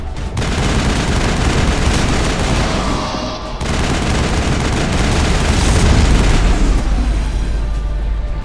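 Heavy gunfire from a large mounted gun in Mass Effect's Virmire mission, a loud, continuous barrage of booming shots with a brief lull partway through before it resumes, no talking.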